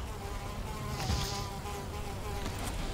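Buzzing of bees in the Valheim video game, a steady insect drone filling the whole stretch with a slight swell in the middle, heard alone without talk.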